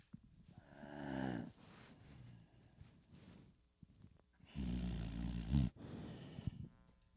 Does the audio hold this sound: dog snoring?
yes